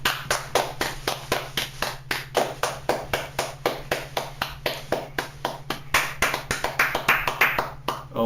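Steady rapid clapping from a small group or one person, even rhythmic claps about three per second continuing throughout, close and moderately loud with a constant low hum beneath.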